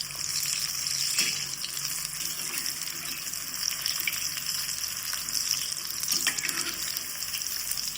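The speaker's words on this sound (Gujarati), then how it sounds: "ગોલ્ડન થાય ત્યાં સુધી આપણે તળાવવા દેવાના છે." Maggi noodle pakodas deep frying in hot oil, a steady close bubbling sizzle with a bright hiss throughout, a few soft stirring knocks in between and no talking.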